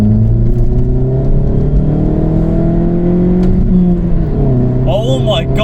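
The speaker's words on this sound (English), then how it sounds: "I'm going to go around the roundabout and like slingshot it. See how it sounds." A VW Golf Mk6 1.4 TSI fitted with a sports cat downpipe accelerates out of a roundabout. Its engine drones loudly and close, the pitch climbing steadily as it pulls before easing near the end.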